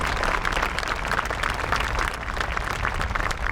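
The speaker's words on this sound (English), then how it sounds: "Let's give them a round of applause." Sustained applause fills a high school graduation ceremony, a steady broadband wash of many hands clapping from a large crowd, loud and continuous with no talk over it.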